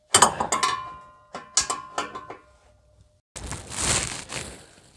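An adjustable wrench working loose an exhaust particulate sensor on a 2018 Chevrolet Silverado 3500 HD: sharp metallic clicks and scrapes in bursts, then a rougher grinding rustle, close and loud with no talking.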